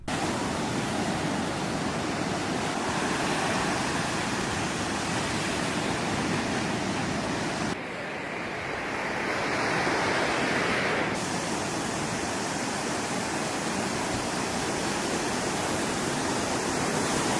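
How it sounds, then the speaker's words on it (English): Ocean waves with glowing blue bioluminescence wash in a continuous roaring hiss of surf, loud and steady with a brief dip partway through. "You guys really enjoyed the glowing blue waves from the last episode"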